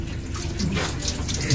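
Water poured from a container, a short steady splashing stream running for under two seconds, close and moderately loud.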